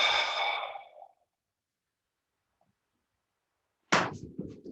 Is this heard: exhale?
yes